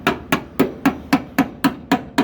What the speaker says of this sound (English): take your favorite hammer and smash all of this in